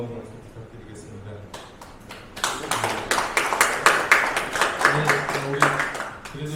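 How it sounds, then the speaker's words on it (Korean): At a political party's Incheon city chapter event, an audience applauds for the chapter chairman: a few scattered claps build into a fuller, rhythmic round that continues over faint background voices. "뜨겁게 환영해 주신 우리 배준영 시당위원장님께 다시 한번 박수 부탁드리겠습니다."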